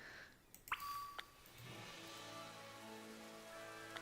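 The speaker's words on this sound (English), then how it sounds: "It's rain sound now." Rain ambience from a Pokémon video game, a steady soft hiss of falling rain with a few bright chime-like dings near the start and a faint tonal hum underneath.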